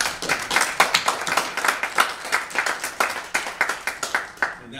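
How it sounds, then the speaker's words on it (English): Audience applause for the competition teams at a university shark challenge event, a steady dense round of clapping from a crowd. "Let's give another round of applause to all of our teams."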